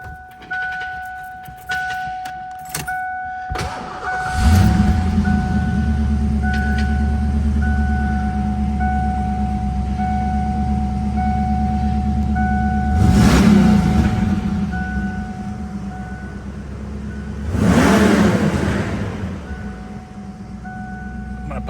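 A 1987 Ford Mustang GT engine cranks and catches, then settles into a loud, steady idle with a deep rumble, broken by two sharp revs partway through and near the end.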